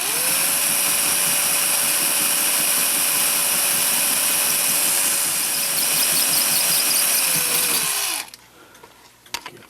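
A power drill whines steadily and close while drilling a hole, holding a constant pitch for about eight seconds before winding down and stopping, followed by a few faint clicks and handling noises.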